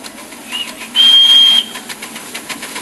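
A miniature steam locomotive on a 5-inch and 7¼-inch gauge track gives one steady, fairly loud whistle blast of about half a second, ringing over a murmuring outdoor crowd.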